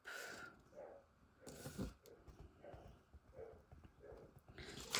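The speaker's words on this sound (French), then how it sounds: "il y a des chiens qui aboient" Several dogs bark in the distance in the countryside at irregular intervals, muffled and fairly faint, with a rustling background close by.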